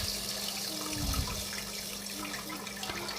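Water is poured steadily into a pot of stuffed vegetables (mahshi) in a home kitchen, a continuous close splashing rush with no one speaking.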